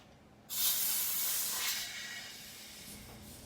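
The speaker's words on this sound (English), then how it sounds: "that means the airbag needs to be all the way inflated" Sharp burst of compressed air hissing into the rear suspension airbag of a 1972 Chevrolet C20 truck, starting abruptly, holding steady for over a second, then easing to a softer continuous hiss; no talk.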